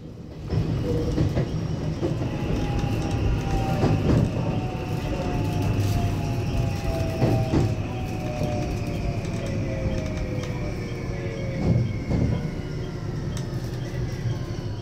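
A local train on the Hokuriku Main Line pulls into Imajo station and slows onto the passing siding, its steady rumble overlaid by descending brake squeals and faint wheel clatter, with a few birds audible over the run.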